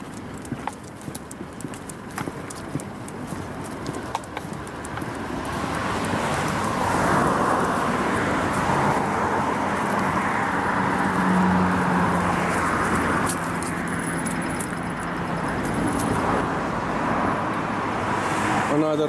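Road traffic swells along a main artery into the city center, with a steady roar of passing vehicles building and then easing, mixed with rhythmic hoof clip-clop nearby.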